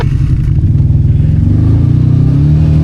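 An off-road vehicle's engine runs hard in 2-wheel drive on a powerline trail, a loud, close, steady low growl with a rhythmic pulsing throb and rising pitch as it revs, with no voices.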